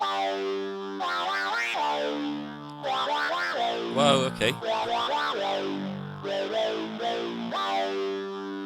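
A Korg MS-20 synthesizer plays a song: a bright, gliding, effects-laden lead line with a filter-swept buzzy tone over steady harmonics, loud and continuous, with a brief exclamation spoken partway through.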